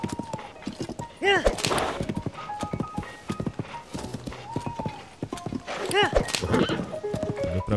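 A horse gallops with steady clip-clop hoofbeats and neighs loudly twice in the video game Zelda: Tears of the Kingdom, while someone talks over the game sounds throughout.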